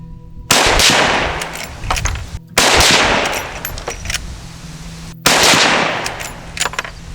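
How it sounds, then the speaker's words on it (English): Three sharp 30-30 rifle shots fired with open sights at a 100-yard target, loud and close, each followed by a decaying outdoor echo, spaced roughly two to three seconds apart. "see what kind of group I can shoot open sights here at 100 yards with the 30-30 steel"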